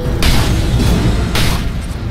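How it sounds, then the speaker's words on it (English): Tower destruction in the Dota 2 video game, heard as a loud sustained rumbling boom with a second burst near the end, dense and alone. "Dire's middle tower has fallen."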